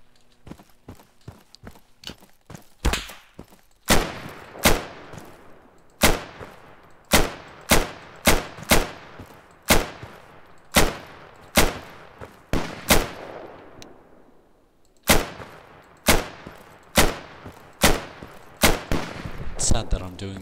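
Gunshots ring out in a third-person shooter video game: a quick early flurry, then a long string of loud, sharp cracks at irregular intervals, each with a short decaying tail.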